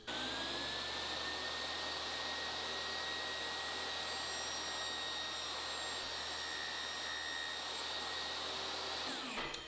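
A power saw, set up with a miter gauge, cuts a plastic piece for homemade feather boards, giving a loud, steady whining roar that holds for nearly ten seconds before cutting off abruptly.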